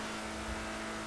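A car engine idles with a steady low rumble as a player climbs into a ride during a two-player heist video game, a constant drone holding for about a second with no voices.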